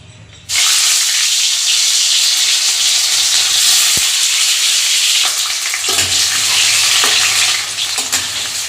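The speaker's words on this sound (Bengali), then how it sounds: "তো আলুটা এবার একটু ভাজা হোক লাল লাল করে" Potatoes fry in hot oil, their loud, continuous sizzle and hiss bursting in suddenly and holding up close, with brief stirring scrapes over the top.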